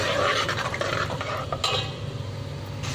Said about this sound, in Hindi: अब इन्हें लाइट सा फ्राई कर लेंगे।